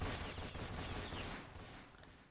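Roblox Fortnite Simulator game gunfire, a dense, continuous volley of shots that starts strong and slowly fades over a couple of seconds, with no talking.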